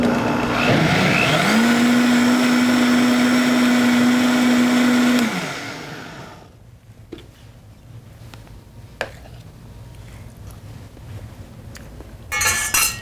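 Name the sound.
blender blending chocolate ice cream mixture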